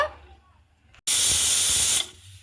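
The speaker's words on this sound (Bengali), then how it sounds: "আমি প্রেসারে সিটি দিয়ে আলুগুলো সেদ্ধ করে নেব" A pressure cooker boiling potatoes lets out a loud, steady one-second blast of hissing steam that starts abruptly and cuts off sharply, with quieter kitchen background before and after.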